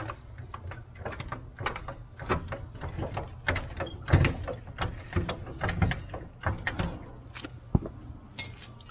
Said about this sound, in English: Slide your jack under, get up under your frame, lift the vehicle up